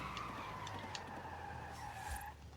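A Lotus Esprit V8 brakes hard in Forza Horizon 5, a steady engine drone and tyre scrub fading as the car slows, with a brief squeal near the end.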